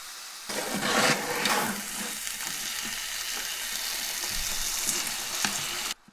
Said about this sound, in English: After the sugar is caramelized, I add pork into this.